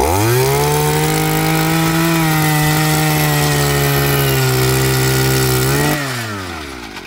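An earth auger engine mounted on a bicycle screams loudly and steadily while drilling into soil, holding a high buzzing pitch before dropping off sharply as the engine winds down near the end.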